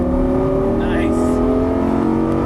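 A Lamborghini Gallardo LP550-2 engine pulls loud and steady under throttle, a close, continuous rising drone with no breaks.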